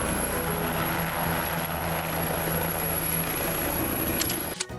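An air ambulance aircraft flies overhead with a steady, loud broadband engine roar that holds evenly before cutting off abruptly at the end.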